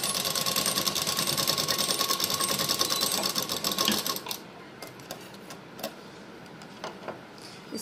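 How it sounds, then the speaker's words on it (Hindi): An electric sewing machine runs a fast, even stitching rattle while sewing a blouse seam, loud and steady for about four seconds before stopping, followed by quieter fabric handling and small clicks. "उसके बाद इसमें मैं इस तरह से रखूँगी और सिलाई लगा लूँगी"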